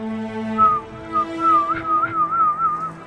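A voice imitates the wavering whistle of an object swung overhead, producing a sustained, warbling tone that rises and dips over about three seconds, fairly close and clear with no other talk.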